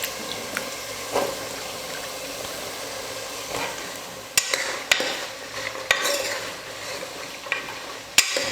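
Potatoes and soaked grains sautéing in a pan for masala kulambu make a low sizzle under repeated stirring, with several sharp spoon knocks against the pan in the second half; no one speaks.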